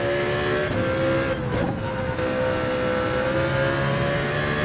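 A race car in the video game Gran Turismo on PSVR2 with its engine held at a loud, sustained high rev, a steady droning tone with a brief dip as it shifts, and no talking.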